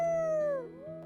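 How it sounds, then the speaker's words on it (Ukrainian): A werewolf howls at the howling spot in The Sims 4: one sustained tonal howl, clear and fairly close, sliding gently downward, then a softer rising tail. "Я хочу, щоб вона повила на місці для виття"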